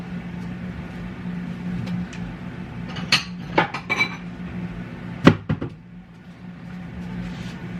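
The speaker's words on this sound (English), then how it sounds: "I'm gonna start off by going ahead and cracking my egg." A fresh egg from backyard chickens cracked into a bowl: a few light taps and clinks in close succession, then a couple more sharp knocks, over a steady low kitchen hum, with no talk.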